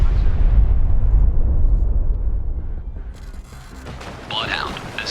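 Depth charges from a destroyer hunting a U-boat in Destroyer: The U-Boat Hunter explode in a long, loud, deep rumbling roar that slowly fades, with a faint radio voice near the end.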